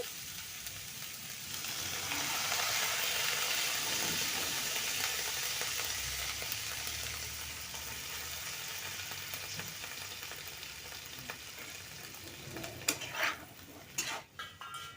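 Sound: water added to apple pieces cooking in a pan

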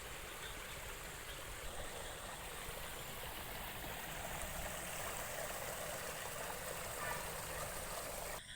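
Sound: water flowing out of a field

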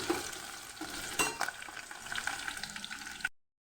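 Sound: onions and green chillies frying in a pan

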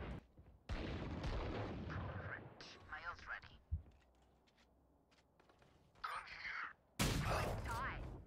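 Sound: new sniper rifle shots in video game Valorant

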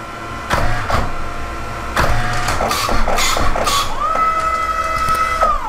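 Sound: photo booth printer printing photos

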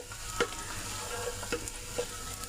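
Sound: onions frying in oil for prawn biryani

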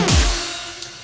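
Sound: Gross Beat backwards stutter effect on synth slide

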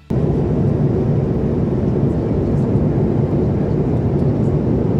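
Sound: airplane humming in flight, heard from the cabin

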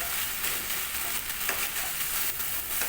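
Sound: green jackfruit and potatoes being fried on high flame

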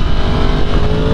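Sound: Yamaha MT10 motorcycle engine revving

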